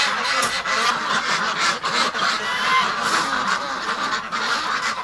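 Ducks at a door in winter, loud and close, a dense chorus of overlapping quacks and honks that goes on without a break.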